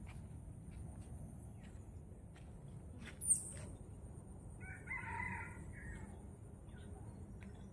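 Outdoors among many roaming chickens, a rooster crows once at some distance over soft outdoor ambience, with faint clucking around it.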